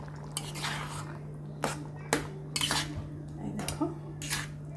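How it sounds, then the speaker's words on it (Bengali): Metal pot lid lifted off a pan of tomato and mango-leather chutney, a few sharp clinks and scrapes of metal over a steady low hum, with faint speech in the background. "ঢাকনাটা খুলে নিচ্ছি।"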